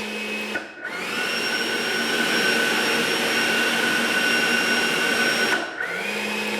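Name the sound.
E-flite F-16 Falcon 80mm RC jet with thrust reverse running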